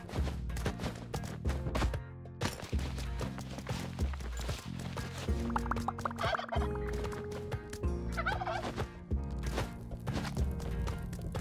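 Turkeys in a video game level give a loud, busy run of rapid gobbling calls that repeat over about eleven seconds, overlapping with clopping, chopping-like game sounds and a dense layered mix.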